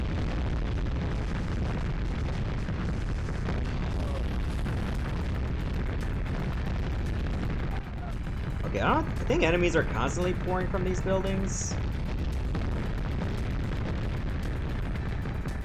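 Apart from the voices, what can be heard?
explosions in video game Mass Destruction (PS1)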